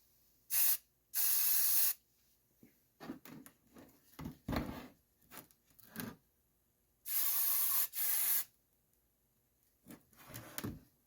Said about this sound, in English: I'm just using Rust-Oleum white primer that I have laying around.